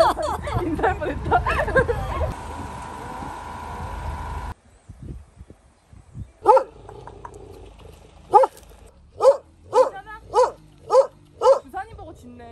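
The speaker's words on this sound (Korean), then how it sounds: "부산님 보고 짖네." A dog barks at a visitor on a Suncheon blueberry farm. A stretch of people chattering comes first, then the dog gives a string of loud, sharp, evenly spaced barks nearby.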